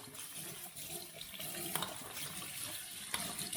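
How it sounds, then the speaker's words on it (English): Tap water runs steadily into a sink while CPAP headgear is rinsed under the stream, a continuous splashing hiss with a few brief louder spatters. "you can see that the water is coming out of the end, so it's getting a good rinse"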